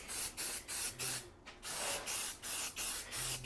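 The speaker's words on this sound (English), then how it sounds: "it sprays like normal spray paint" Aerosol spray paint hissing from a can onto a C10 truck, a series of short bursts with brief gaps between them and one longer pause midway, close and crisp.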